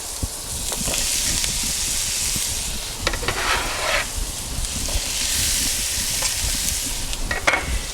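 Shallots and mushrooms sauté in a pan for a classic chicken marsala, giving a steady close sizzle with scattered stirring scrapes and small pops throughout, no voices.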